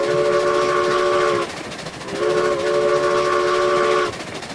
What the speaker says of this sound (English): Lord Lon Johnson, it's a runaway train